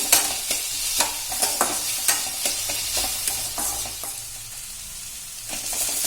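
Onions sautéing in a pan for Tamil-style tomato chutney, with a steady sizzle broken by repeated sharp scrapes and clacks of a spoon stirring against the pan, close and fairly loud with no talking.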